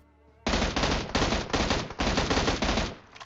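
Rapid automatic gunfire from the mobile game PUBG Mobile, loud continuous bursts that start abruptly and run for almost three seconds with brief gaps between volleys.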